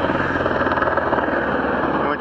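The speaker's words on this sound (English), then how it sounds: "there's a chopper up there" A helicopter drones steadily nearby above a cycling road race, its broad engine and rotor roar filling the whole clip with little change in level.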